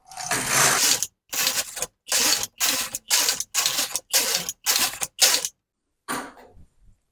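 A knitting machine knits rows of a dish towel: eight loud, rasping carriage passes in a regular back-and-forth rhythm, each about half a second long with brief gaps, followed by a fainter final stroke.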